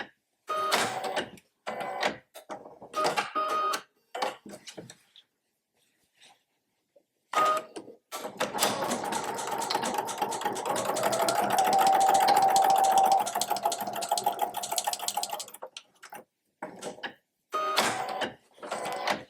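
A sewing machine stitches across the top of a tote bag strap, backstitching back and forth; short start-stop bursts give way to a steady, close mechanical whir lasting several seconds, then brief stops again.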